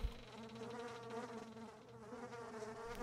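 Insects buzz in a horror-style indie video game, a low, continuous droning hum with a faint tonal whine that holds steadily without pause.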